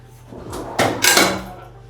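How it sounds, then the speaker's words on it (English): A Thermador pull-out freezer drawer slides open in a luxury home kitchen, giving a short rolling glide followed by a soft thud, close and clear with no talking. "A couple pull-out freezer drawers."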